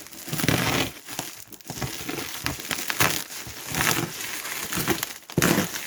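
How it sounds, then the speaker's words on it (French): Airsoft gun parcel packaging from Taiwan Gun, for a Classic Army M249 Para, being cut open with a utility knife: continuous close crinkling and crumpling of plastic and cardboard with scraping cuts and rustling bursts, no talk. "on va faire juste avec un cutter."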